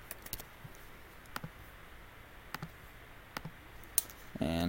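Sharp mouse clicks and a few keyboard taps while working in Revit on a desktop computer, sparse and close in a quiet room, ending with a brief louder burst of sound.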